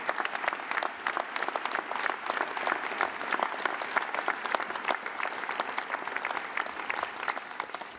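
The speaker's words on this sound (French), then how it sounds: "Merci de l'applaudir" An audience claps at a French civic address in a dense, continuous wave of applause, many hands clapping together at a steady level for several seconds, moderately loud and filling the room, with no voice over it.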